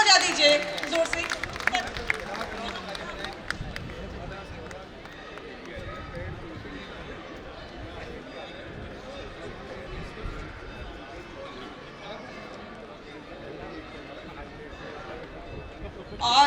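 An audience gives a steady, dense round of applause for political candidate Nathu Singh at an event. The clapping is loudest at the start, continues at an even level throughout, and is mixed with crowd murmur.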